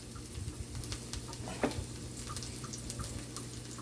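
Onion sizzling quietly in a frying pan for Jamaican fried sprat, a steady soft crackle with occasional stirring scrapes and faint drips.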